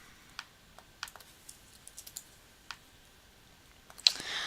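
Typing on a computer keyboard while laying out a magazine page in Adobe Illustrator: sparse, irregular key clicks, each short and crisp, fairly close, with pauses between bursts and a slightly louder clatter near the end.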